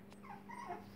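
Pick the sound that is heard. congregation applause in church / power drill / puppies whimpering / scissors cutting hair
puppies whimpering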